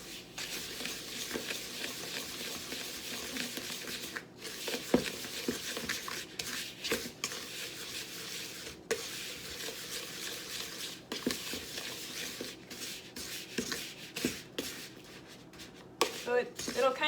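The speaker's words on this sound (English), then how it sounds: "you just want to mix it up until it's this like crumbly texture" Crumbly cheesecake crust mixture being stirred in a bowl, a steady soft scraping and rustling throughout with occasional sharper knocks.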